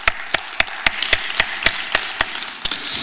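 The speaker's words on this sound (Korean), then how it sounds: "박수로 하나님께 영광 돌리겠습니다" A church congregation claps in unison, a steady beat of about a dozen evenly spaced claps, moderately loud, with no talk over it.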